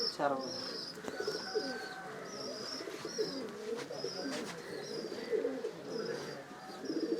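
Several racing pigeons in a loft give overlapping low cooing calls, and brief higher chirps come through now and then. The whole scene stays faint, and a voice may be heard softly beneath the birds.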